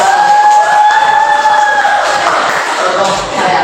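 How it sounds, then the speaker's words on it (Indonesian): A classroom crowd of students reacts to group 3 during a mathematics teaching simulation with a steady wash of cheering and clapping, with no voice standing out, loud and continuous throughout. "Beri tepuk tangan untuk kelompok 3"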